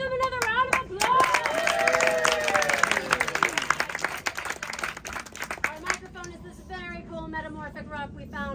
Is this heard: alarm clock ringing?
no